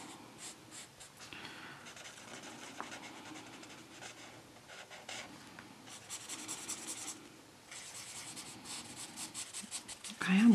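Markers squeak and rub against paper during coloring, close and soft, in bursts of strokes separated by short pauses, with faint breathing in the quiet room.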